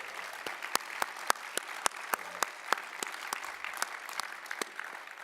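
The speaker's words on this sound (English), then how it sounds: "I want to give her a round of applause." Scattered applause from a small audience at a members' business meeting, individual sharp claps clearly separated in a loose, uneven rhythm, fairly close and moderately loud.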